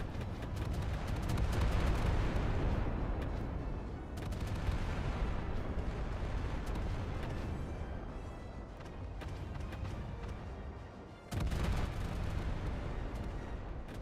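Heavy naval battleship gunfire and explosions from the video game Battlestations: Pacific, a loud, continuous barrage of booming shots and blasts with a brief dip before the roar resumes.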